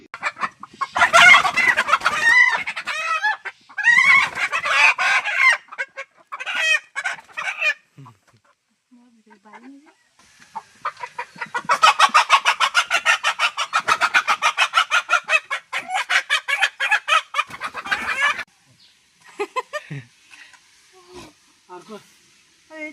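Chickens cluck and squawk loudly and close by as they are caught in a village, with bursts of frantic flapping and cackling separated by brief pauses and faint voices between.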